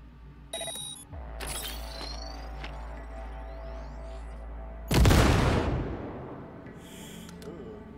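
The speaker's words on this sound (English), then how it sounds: "Now, detonate the grenade." A grenade detonates in the video game Cyberpunk with a sudden loud boom that decays into a noisy tail, following quieter game sounds and beeps.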